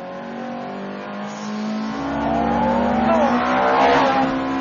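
A Ferrari F430 Challenge race car accelerates hard on a circuit, its engine rising in a steady, loud climbing whine as revs build, heard close from on board, with one brief exclamation near the end.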